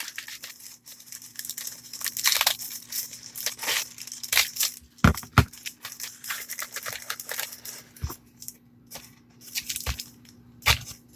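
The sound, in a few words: trimming the skirt of a ball header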